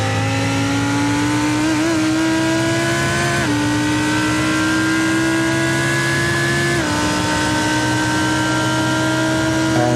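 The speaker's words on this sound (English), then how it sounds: "Here again, on board now in the Lamborghini." Onboard engine sound from a Lamborghini race car in a sim racing endurance event at a digital Nürburgring: a loud, sustained high-revving drone that climbs through the gears, with sharp drops at each upshift.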